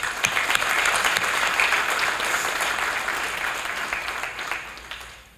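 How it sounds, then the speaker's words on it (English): An audience at the 47th commencement of the International College of the Cayman Islands applauds the graduating class with steady, dense clapping that holds for several seconds and then thins out and fades at the end. "Let's give them a big round of applause."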